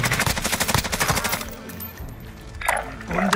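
Rapid automatic gunfire in Warzone, a loud rattling burst of shots for over a second, followed by a quieter gap and then further single shots and impacts.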